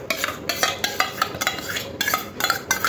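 Chicken is stirred and mixed with turmeric, Kashmiri chilli powder and whisked yogurt for a spicy bhuna marinade. Close, rhythmic wet scraping and slapping strokes repeat roughly every half second.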